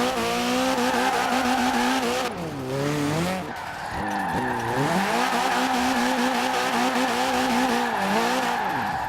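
A Ford Capri FE drifts in Forza Horizon 4, its tires squealing loudly in long sweeping wails over a steady engine drone, with a short dip in the middle before the screech resumes, close and continuous.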